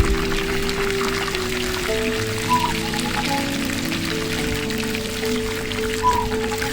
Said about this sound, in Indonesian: lalu goreng ikan yang sudah dibumbui pakai tepung serbaguna